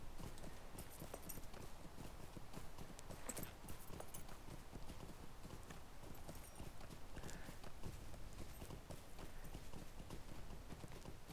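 Horse hooves clip-clop in a steady, rapid rhythm as a horse is ridden in a video game, faint and continuous throughout with occasional quiet talk.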